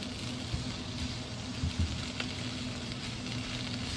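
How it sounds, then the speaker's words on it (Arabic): Spinach cooks in a pan with a steady, faint sizzle and hiss throughout, punctuated by a few soft clicks and taps. "الغرض من طبخ السبانخ الحين انه احنا نخليها تنزل اغلب مويتها"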